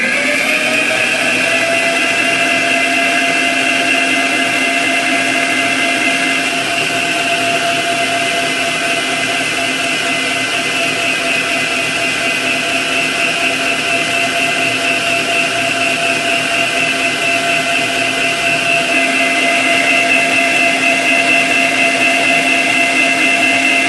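An electric mixer beats cake batter in a steady, loud, unbroken motor whine lasting the whole stretch, with no talk over it.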